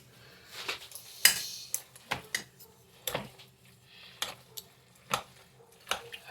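Utensils pulling apart hot cooked pulled pork, a series of sharp metallic clinks and scrapes against a pan, irregularly spaced, close and fairly quiet.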